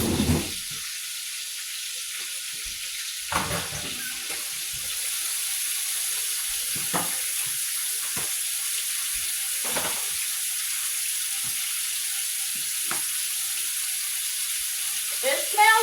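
Chicken browns in a pan with a steady, moderately quiet sizzle and hiss, broken by occasional clanks and taps from the kitchen.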